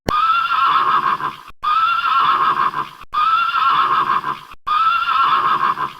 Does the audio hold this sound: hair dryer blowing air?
no